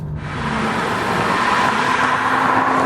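A BMW M2 sports car from 2016 drives on an open road, its engine a loud, steady roar that builds slightly and holds strong throughout, with no talk over it.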